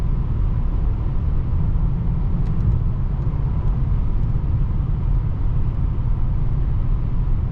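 Steady low road rumble and engine hum fill the cabin of a 2021 Mercedes S-Class cruising at about 130 under 1,500 RPM, constant and moderately loud with no voices.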